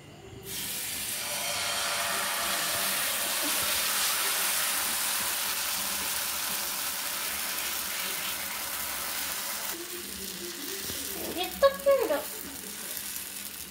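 Dosa batter hitting an oiled pan gives a loud, steady broadband sizzle for about ten seconds, then drops to a quieter hiss with a few sharp scraping clinks near the end.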